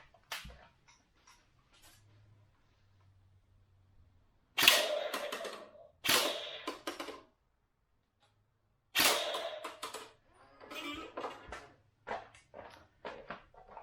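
All-metal M4 gel blaster toy gun firing: a few sharp, snappy shots spaced apart, then a quicker run of lighter clicks, close and fairly loud against a quiet background.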